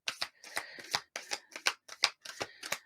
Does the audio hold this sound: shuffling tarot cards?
yes